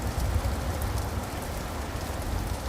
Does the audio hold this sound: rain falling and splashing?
yes